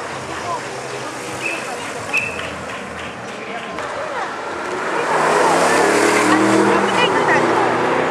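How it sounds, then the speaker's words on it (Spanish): At a road show event in Valladolid, a car sweeps past and its tires squeal and skid, building to a loud roar of engine and tire noise as people shout nearby. "Y un carro detrás."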